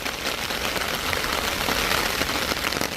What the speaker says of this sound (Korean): 빗소리가 제법 많이 들리죠?